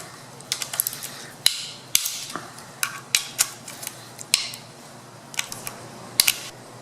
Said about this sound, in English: Now we got about 20 of these bolts to undo for the oil pan.